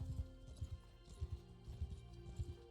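Horses in the video game Mount & Blade II: Bannerlord, soft hoof clip-clops in irregular clusters of quick beats, fairly faint and close, with no talking over them.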